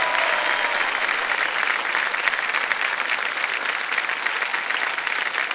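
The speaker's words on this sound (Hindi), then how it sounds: "तालियों के साथ हम चाहते हैं कि जोरदार तालियां बज जाए इनके लिए" Loud, dense applause from a studio audience on the KBC Queens quiz show, greeting a female contestant as she receives a prize cheque; steady and sustained throughout with no talk over it.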